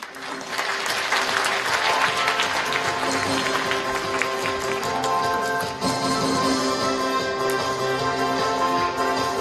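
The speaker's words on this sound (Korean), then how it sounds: "다시 한번 큰 박수 부탁드립니다" A large audience at a shopping-mall big-data forum applauds loudly and continuously after a presentation, dense clapping filling the whole stretch.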